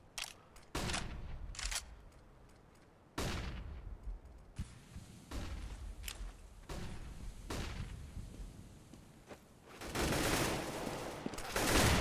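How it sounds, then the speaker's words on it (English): Rifle fire in a Counter-Strike match, including AK shots: sharp cracks fired singly and in short bursts, spaced irregularly over quiet game ambience, ending in a louder cluster of rapid shots. "There's the AK kill"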